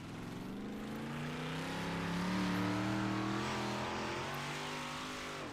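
An iRacing stock car, a 358 sprint car at Lernerville, drones past on track with a loud steady engine whose pitch swells and sweeps as it nears and pulls away, with no talk over it.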